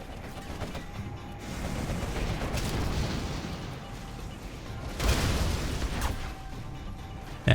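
King Raptor aircraft bombard a base in a strategy video game, with a steady roar of rumbling blasts and gunfire that swells into a louder burst partway through and keeps going to the end.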